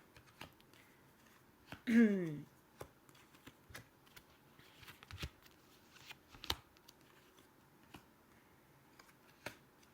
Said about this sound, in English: I've got one more shuffle